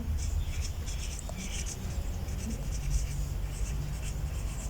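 Steady scratching of writing by hand as 'ascending order' goes down for a Class 7 maths exercise, a continuous close rubbing of pen on paper that runs throughout without speech.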